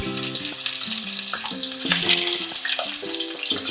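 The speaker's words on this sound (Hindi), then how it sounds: "चिकन डाल देंगे और इसे लगभग 7-8 मिनट तक फ्राई कर लेंगे।" Chicken sizzling in hot oil in a pan, a dense crackling fry under brief music-like tonal notes, steady and close for a few seconds.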